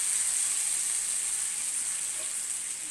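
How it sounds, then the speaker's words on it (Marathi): Water is poured into dhokla batter with salt, a soft steady hiss and trickle that stays close and quiet with no voices. "पाणी घालायचं"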